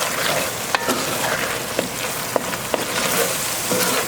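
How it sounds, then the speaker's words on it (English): Carne guisada stew boiling in a pot on an outdoor grill, a steady loud bubbling and sizzling hiss with a few sharp pops and clicks, heard alone without talk. "We got this sucker up to a boiling."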